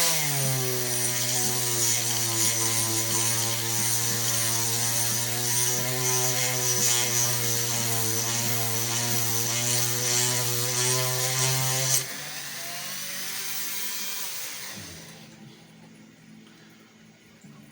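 A drill bit bores into the plastic case of an LG C400 notebook, a steady high whine with strong harmonics running for about twelve seconds, then cutting off into a lower, rougher winding-down sound and quiet.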